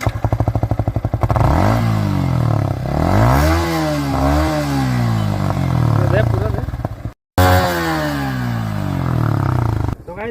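A Yamaha R15 motorcycle exhaust revs hard in a raw sound test, close and loud, climbing and falling through several throttle blips with a brief cutout before another rising rev; people speak over the engine noise.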